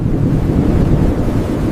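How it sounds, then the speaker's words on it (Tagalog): Strong wind on farmland roars steadily against the microphone, a dense low buffeting rush that holds throughout without a break. "Ang lakas ng hangin!"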